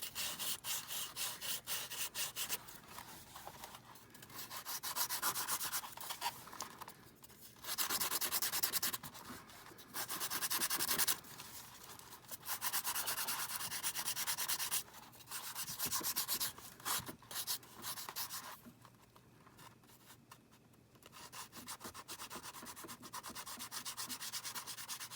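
Sandpaper rubbed by hand over a journal box, a steady scratchy sanding with repeated strokes and short pauses between bursts, close and moderately loud with no talking.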